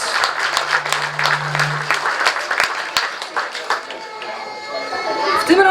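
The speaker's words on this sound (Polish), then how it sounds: "Także wielkie brawa dla wszystkich, którzy zechcieli dzisiaj przed nami wystąpić i pięknie zaśpiewać." Audience clapping at a children's and tourist song festival in Miedzichowo, dense and steady throughout with a brief low held tone early on, thinning slightly toward the end.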